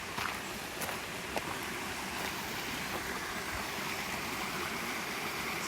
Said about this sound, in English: There's another nice little waterfall.